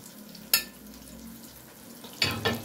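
Food frying in hot oil gives a faint, low hiss, broken by one sharp utensil clatter early on and two more knocks toward the end; nobody speaks.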